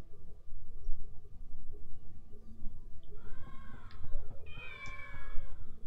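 A kitten in the video game Shenmue gives two high, clear meows over low game background sound, close and moderately loud.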